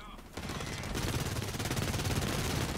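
Rapid automatic fire from a toxic SMG in the video game Blacklight Retribution starts after a brief pause and continues as a dense, steady burst of gunfire close up.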